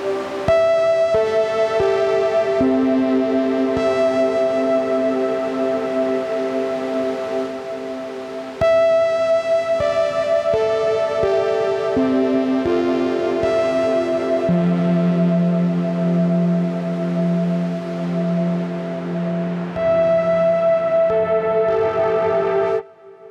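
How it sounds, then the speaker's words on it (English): Guitar played through a Walrus Audio Melee pedal with reverb mixed in, sustained chords and single notes ringing out with a lush, echoing tail, steady and loud throughout with no talking. "And now let's mix in some reverb."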